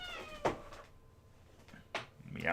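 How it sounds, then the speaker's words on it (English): Cat meowing, a couple of short close meows with a quiet pause between them, fairly soft over low room noise. "Hello, small cat."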